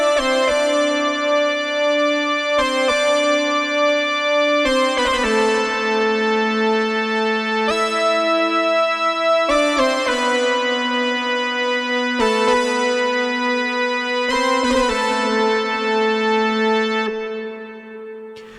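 Stacked synth voices play a sustained chord progression together, high, middle and low parts blending into a full, wide sound before fading.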